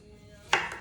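A single knife chop through fruit on a board, one sharp close thud with a short tail, preceded by quiet room tone.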